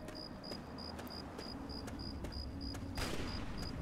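Distant gunshots crack at intervals over a steady chirping of crickets in the video game Fallout 3, with a heavier burst near the end.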